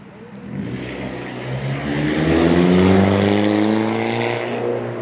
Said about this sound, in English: And there are a lot of noisy cars.